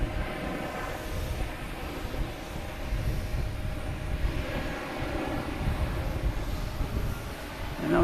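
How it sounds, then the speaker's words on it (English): An ITA airliner takes off at Boston Logan Airport with a continuous, broad jet-engine roar that holds steady at a moderate distance and swells slightly toward the end. "And now we got ITA taking off finally."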